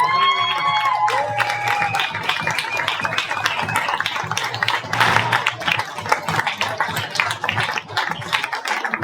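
Loud, sustained applause from an indoor audience at the 2024 FIIDI film festival award ceremony in Marseille, dense clapping with cheers and whistles across the whole stretch, a few voices calling out early on.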